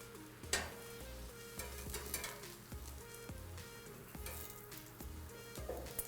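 Onions and carrots sizzle steadily on a grill, a continuous frying hiss punctuated by clicks and taps of utensils, with a low hum running underneath throughout and no one speaking.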